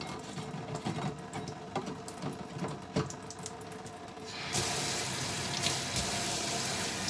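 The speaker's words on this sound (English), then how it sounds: "So attempt to fill that with some water." Tap water runs into a large container, starting with scattered clinks and drips of handling before a strong steady gush of filling water takes over for the last few seconds, close and loud with no talk.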